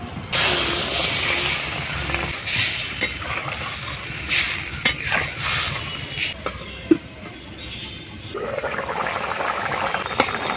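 Water poured into a hot pan of spiced fish curry base with potatoes, chili and turmeric powder, giving a loud rush of sizzling and hissing steam that settles into a steady bubbling simmer with scattered stirring clatter.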